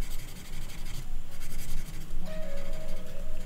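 A pencil colours in a colouring book with continuous close scratchy strokes, rubbing back and forth steadily throughout with no talk.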